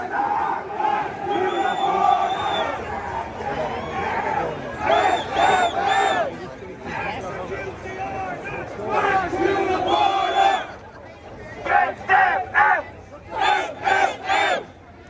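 A packed street protest crowd in Dublin chants and shouts in rhythmic bursts, loud and close, with waves of massed voices rising and falling and brief lulls between chants.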